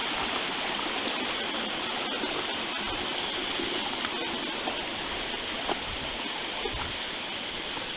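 A rocky brook rushes past at a trail stream crossing on a winter ridge hike, a loud, steady broadband wash of flowing water close by with no pauses.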